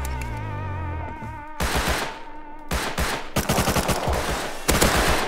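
Gunfire rattles in the survival game Rust, with a tonal hum fading out before several loud bursts of rapid automatic shots, close and punchy, separated by brief gaps.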